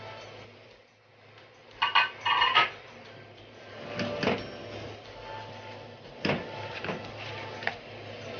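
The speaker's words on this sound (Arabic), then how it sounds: "هنقلبها كويس طبعا ونفككها من بعض كده." Minced meat being stirred and broken apart in a pan with spices, heard as a few bright clinks and scrapes of a utensil against metal, some in quick clusters, over a low background.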